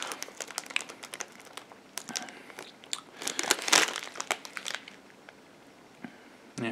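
Crunchy, spicy Bombay mix-style Indian snack eaten up close, a rapid run of crisp crunching bites and chewing mixed with packet crinkling, rising to a denser burst midway, with no talking.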